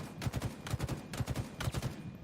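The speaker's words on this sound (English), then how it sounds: "We can hear gunfire on the others." Rapid bursts of automatic gunfire in a Slayer match of an online shooter game, arriving in four quick, rhythmic clusters that sound faint and somewhat distant.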